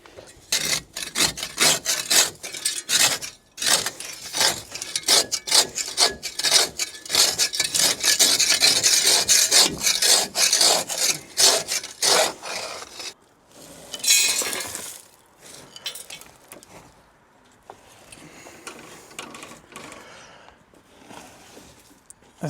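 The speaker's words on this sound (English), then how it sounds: "So I really got to do some scrubbing to detail this" Dirt being scrubbed by hand inside the cab of a Caterpillar 311B excavator, rapid close rasping brush strokes in bursts with brief pauses, then slower fainter scrubbing near the end.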